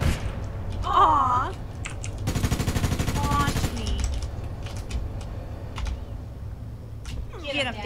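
Automatic gunfire in the video game APB Reloaded comes as a rapid, dense burst lasting over a second, with scattered shots and clicks around it and people talking over the action.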